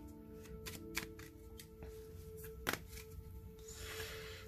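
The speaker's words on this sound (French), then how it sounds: "je mélange les cartes blanches" Oracle cards being shuffled by hand in a quiet room, a soft, continuous riffling rustle broken by a few sharper taps, close and faint with no talking.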